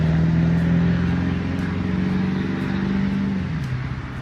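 A car speeds past on a nearby road, a loud engine drone that swells and holds steady, then its pitch drops away as it goes by.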